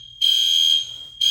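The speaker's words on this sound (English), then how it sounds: "what do you do when you're in a hotel and the fire alarm goes off?" A hotel fire alarm blares in loud, piercing tonal bursts, sounding for about half a second, pausing briefly, then starting again, with no voices.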